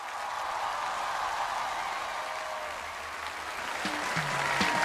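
An audience applauds steadily to welcome the head teacher onto the stage at a televised music show, a broad, even wash of clapping that swells slightly near the end as a few musical tones enter.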